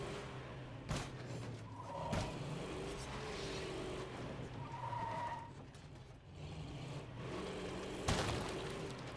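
A car engine in State of Decay 2 revs and surges, rising and falling with tire skids and sharp knocks or thuds scattered through, fairly faint overall.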